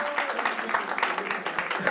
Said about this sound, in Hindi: जोरदार तालियां आयुष के लिए।